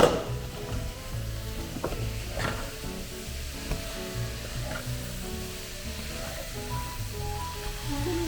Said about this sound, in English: we're going to stir the cabbage